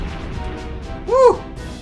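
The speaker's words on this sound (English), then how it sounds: "Explosion!" An Explosion move from the Pokemon Colosseum video game, heard as one short, loud burst that swells and falls away over a low background hum, with no talk.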